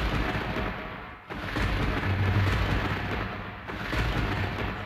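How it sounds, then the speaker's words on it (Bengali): A thunder sound effect in a devotional story narration rolls as a loud, sustained low rumble, dipping briefly before swelling again in heavy, continuous waves. "ঘন ঘন বজ্রপাত।"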